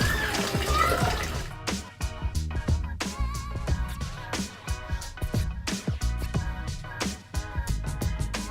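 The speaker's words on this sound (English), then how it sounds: "Always remember to wash your vegetables, fruits and vegetables," Running tap water splashes as vegetables are washed at a kitchen sink while dinner is made, mixed with clattering and handling noises and occasional talk throughout.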